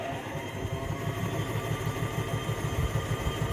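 The starter on a camper van generator that will not run cranks with a steady, fast, low mechanical chugging. The pulsing is moderately close and continues without a break, and no one speaks over it.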